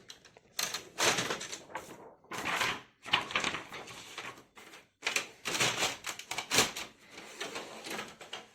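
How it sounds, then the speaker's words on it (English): Inkjet printer taking in a sheet of paper for a screen printing transparency: a series of close mechanical whirs, clicks and sliding rattles in irregular bursts, loud and alone. "Now I'm going to load my paper up"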